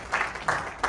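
Audience applause welcoming named staff members at an event, a brief burst of clapping in three quick swells, fairly close and loud.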